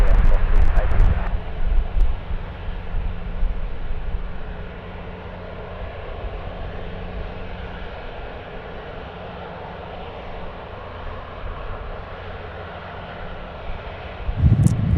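A United airliner's engines roar steadily as it takes off on runway 16 right at Sydney Airport, a broad, continuous rumble heard from a distance with wind noise, rising briefly at the start and end, and a voice talking over it.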